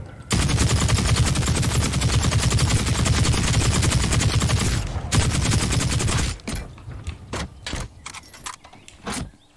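Rapid automatic gunfire from a weapon in the shooter game The Cycle, a long sustained burst of closely spaced shots followed by several separate single cracks and short bursts.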